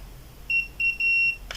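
An automatic curling iron signals a finished curl with three bright electronic beeps, a short one followed by two longer tones, close and clear over a quiet room, ending with a brief click.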